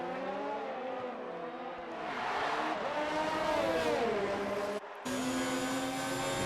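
An Alfa Romeo Formula 1 car in a video game racing at Singapore, its high-pitched engine note rising and falling through gear changes, loud and continuous with another car close behind, briefly cutting out near the end before resuming.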